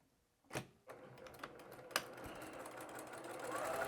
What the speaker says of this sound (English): I'm going to sew through this side